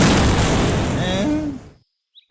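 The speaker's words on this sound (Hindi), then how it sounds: "गेंद नियत स्थान पर पहुंचते ही जोरदार धमाका होता है" Cartoon sound effect of a landmine explosion, a loud, dense blast that fills the first second and a half and then cuts off abruptly into near silence, with a faint brief chirp at the end.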